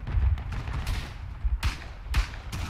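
Sniper and rifle fire in the World War I shooter Verdun on the Picardie frontline: a string of sharp, booming shots at irregular intervals, some close and loud, others distant, over a busy battlefield.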